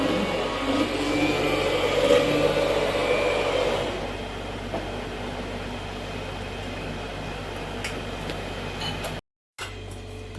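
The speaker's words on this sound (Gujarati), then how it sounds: "દાળ બાફી નાખી છે ને હવે બ્લેન્ડર ફેરવે છે" An electric blender churns boiled dal in a home kitchen, giving a steady loud motor whir that eases after a few seconds and then runs on more quietly until it cuts off briefly near the end.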